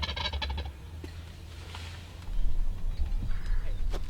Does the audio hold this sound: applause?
no